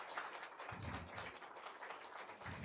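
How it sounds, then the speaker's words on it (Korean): A crowd applauds at a Korean Presbyterian church's 33rd anniversary Sunday service award presentation, the clapping steady and dense from start to finish, with fuller bursts swelling in and out. "박수로 축하하겠습니다"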